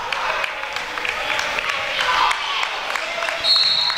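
A Hilltopper basketball crowd on its feet at Rockefeller Arena during a West Liberty University game, with steady applause and cheering and the squeak and bounce of play, while a commentator talks over the noise.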